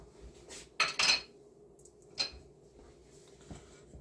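Stew pork ribs being mixed with Worcestershire sauce in a pot, a few sharp utensil clanks against metal scattered over several seconds, close and otherwise quiet.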